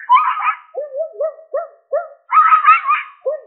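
A voice imitates a barking dog, giving a few rough, close barks broken up by short yelping sounds, loud and alone.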